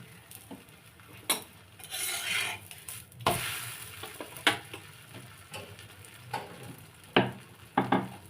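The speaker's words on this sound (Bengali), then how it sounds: "এরকমভাবে আরও একটা ভাজা তোমাদের দেখিয়ে দিই।" Aloo paratha, a potato-stuffed flatbread, fries in a pan with a steady close sizzle and occasional sharp clinks and scrapes of a utensil against the pan. No one speaks.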